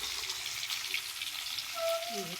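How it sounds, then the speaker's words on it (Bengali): Hilsa fish frying in oil on a wood-fired stove, a soft continuous sizzle with a brief tonal scrape near the end, fairly quiet and close with no talking. "তেলের ভিতরে ইলিশ মাছগুলো দিয়ে দেওয়া।"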